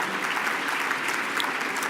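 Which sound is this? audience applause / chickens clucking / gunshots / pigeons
audience applause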